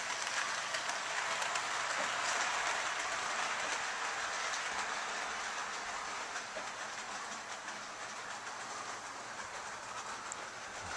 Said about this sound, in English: There comes the train carriages first